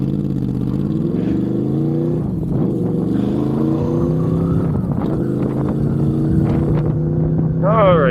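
A Honda VFR800 motorcycle engine runs close by with a steady drone that rises gradually in pitch, as if easing forward, and briefly swells louder near the end.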